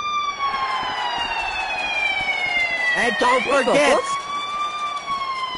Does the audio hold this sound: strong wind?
no